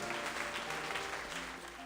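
Applause in the video game Reverse 1999 forms a steady patter of many hands clapping, even and continuous, with faint music tones running under it.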